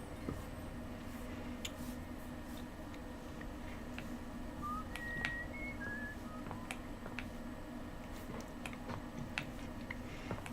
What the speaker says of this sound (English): I really hate the whistling in the background.